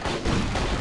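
A loud, dense burst of gunfire in the video game Turok: Dinosaur Hunter, a brief blast of roaring noise heard alone with no speech.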